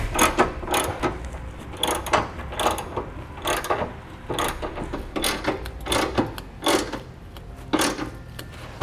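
Trailer hitch bolts and flange nuts being snugged down with a ratchet: repeated bursts of quick metallic clicking, close and fairly loud, separated by short pauses.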